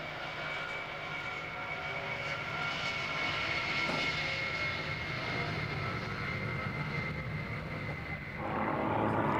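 A Lockheed C-5 Galaxy heavy transport plane at the 1997 Mildenhall air show gives a continuous broad jet roar that holds steady, then swells slightly near the end, heard from a distance without speech.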